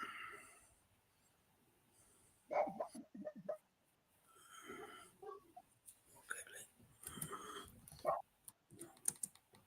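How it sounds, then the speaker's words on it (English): Dog barking outdoors near a camp, a few sharp barks scattered among quiet stretches, mixed with soft tapping noises and low talking. "Yeah, I like listening to him barking."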